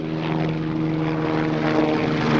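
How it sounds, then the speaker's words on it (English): A helicopter flies overhead, its steady rotor and engine drone loud and continuous with a low throbbing hum that holds level throughout, and no voices are heard. "Hold on, there's a fucking helicopter flying overhead."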